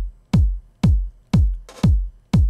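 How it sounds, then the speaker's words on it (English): Layered 909 drum sample for a melodic house track, five punchy kick hits at an even, steady tempo, each with a bright attack and a booming decay, loud and alone. "I used a layered 909 sample"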